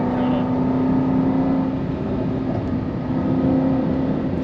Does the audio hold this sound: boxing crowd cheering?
no